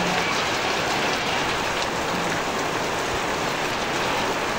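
Heavy rain pours down on a rainy Sunday, a dense, unbroken roar of drops on surfaces that stays loud and constant throughout with no voices.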